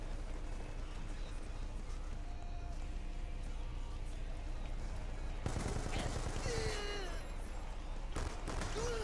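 Gunfire from a secondary weapon in a video game is heard faintly, with scattered shots under game ambience, then a sharper burst of rapid firing partway through, mixed with other in-game effects.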